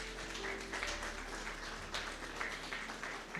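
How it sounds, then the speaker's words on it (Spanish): A church congregation claps together in a sustained round of applause, heard as a soft, fairly distant, steady patter over a low hum, with no talking over it. "Vamos a darle un fuerte aplauso al Señor."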